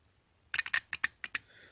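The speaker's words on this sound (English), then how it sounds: "I'm gonna apply power to this bottom one. It has an audible click." A BMW VANOS solenoid on a 2A82 engine clicks as power is applied, a quick run of about seven sharp, close, dry clicks in a quiet setting.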